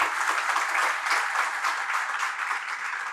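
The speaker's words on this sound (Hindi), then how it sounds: "अपने भाग्य की सराहना करते हुए एक बार जोरदार ताली फिर से बजा दें" Audience at a Jain religious discourse applauds steadily, a dense even wash of many hands clapping that holds at a moderate level for the whole stretch with no voice over it.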